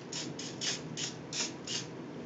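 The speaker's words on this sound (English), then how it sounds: "And then I'm gonna hairspray it." Hairspray is sprayed onto sleek, teased, straight hair in six short, evenly spaced hissing bursts, close and crisp.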